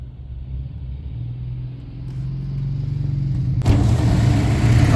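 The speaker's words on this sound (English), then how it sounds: "I've got to keep the throttle on as loud as, or decently high, so it won't cut out" A car with a completely dead battery, jump started and held on throttle to keep it from cutting out, rumbles close by at raised revs, then grows abruptly louder and rougher near the end.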